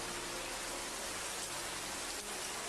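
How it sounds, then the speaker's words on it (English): Steady rain falls in an even, dense hiss with no gaps or thunder, a constant close wash of drops on surfaces. "And the rain is warm."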